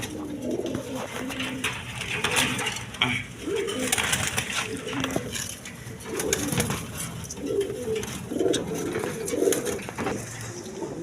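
Racing homer pigeons coo repeatedly in a loft, soft throaty rolling calls overlapping in irregular bursts, with faint rustling and a voice in the background.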